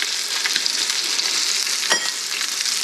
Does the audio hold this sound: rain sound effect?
no